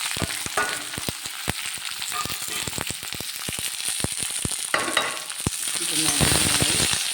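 Garlic, green chillies and curry leaves spluttering in hot oil after mustard seeds pop, a dense crackling sizzle with sharp pops and scraping stirs, close and steady with no talk.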